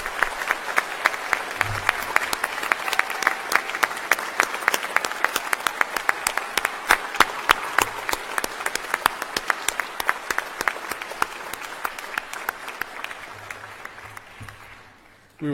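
Sustained crowd applause for master's degree graduates at a graduation ceremony, steady dense clapping with a few sharper individual claps standing out, holding loud for about fourteen seconds before tapering off.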